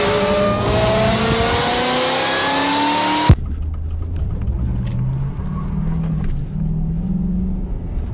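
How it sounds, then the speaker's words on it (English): A car doing a burnout, its engine revving hard and rising in pitch, then abruptly cutting back to a lower, uneven engine drone, loud and close throughout. "Oh, that was a pretty good burnout right there."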